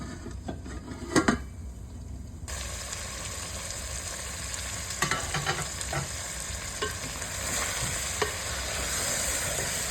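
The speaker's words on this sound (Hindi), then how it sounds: "थोड़ी देर के लिए मैं इसको ढक के रख दूँगी ताकि ये आलू इस मसाले में अच्छी तरीके से भुन जाए" Potatoes sizzle and fry in masala in a pan for a Pakistani chicken aloo salan, with a steady broadband hiss throughout and scattered clinks and stirring scrapes near the start.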